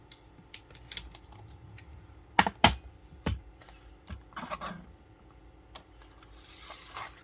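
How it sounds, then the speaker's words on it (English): A paper trimmer slices a cardstock panel for a stamping card project, heard as scattered close clicks and sharp snaps, two loud cuts near the middle, followed by softer sliding and rustling, with no talking. "I'm going to trim this to a 3/4 inch panel."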